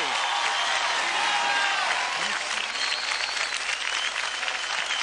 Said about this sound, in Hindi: तालियां विशाली के लिए